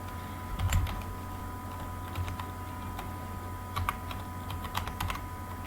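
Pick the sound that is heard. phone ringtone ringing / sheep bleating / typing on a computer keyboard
typing on a computer keyboard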